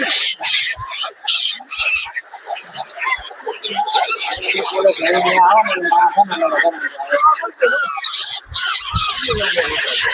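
Birds squawk and chirp in a busy, continuous chorus while pigeons coo, at a crowded waterside spot on the road from Dwarka to Jamnagar, loud and close throughout.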